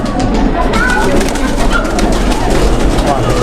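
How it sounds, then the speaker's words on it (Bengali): A loft full of Pakistani high-flying pigeons coos continuously, loud and near, with a voice speaking intermittently over the steady throaty murmuring. "খুব স্মার্ট কবুতর"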